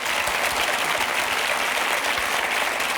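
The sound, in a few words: audience applause for the TV presenter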